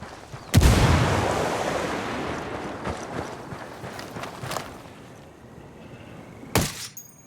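Gunfire in the tactical shooter game Ghost Recon Wildlands: one sharp, loud shot opens, followed by a rumbling decay with scattered softer impacts and a second heavy blast near the end.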